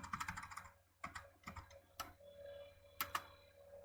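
Keys clatter on a computer keyboard as an SSH command is typed, a close run of quick clicks in short bursts with brief pauses between them.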